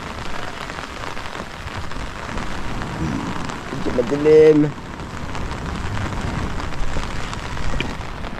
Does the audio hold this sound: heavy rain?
yes